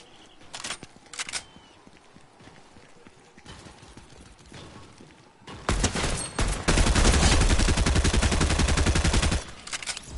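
Shotgun blasts in a video game, a few sharp shots early on followed by a dense, loud sustained burst of gunfire lasting several seconds.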